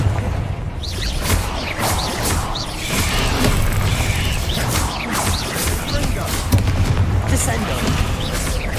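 Repeated Confringo spell explosions in Hogwarts Legacy gameplay pound and crackle steadily as a string of booms and bursts, with clanking mechanical noises mixed throughout, all continuous and loud.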